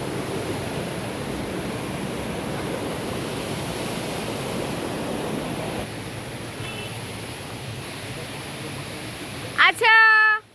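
Water rushing at Bamni waterfall in Purulia, a loud steady broadband roar that holds evenly for most of the clip before a brief clattering handling noise near the end.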